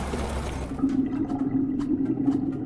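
Water pouring in We Need To Go Deeper: a steady, rushing, gurgling flow with a low rumble underneath, continuous and close.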